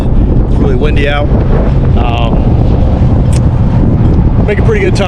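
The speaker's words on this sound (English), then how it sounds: "Sorry for the wind. It's really windy out." Strong wind rumbles against the microphone throughout while a person speaks over it.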